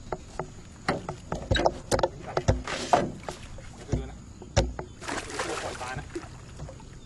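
Paddle strokes splash and slosh in water at an uneven rhythm, with drips and light knocks against a small boat, close by.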